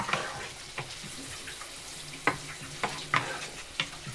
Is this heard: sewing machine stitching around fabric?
no